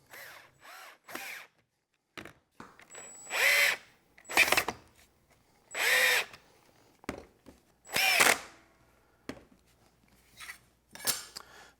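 A power drill drives screws to fasten an angle grinder onto a homemade sliding cutoff saw frame, with several short whirring bursts separated by brief pauses and small clicks.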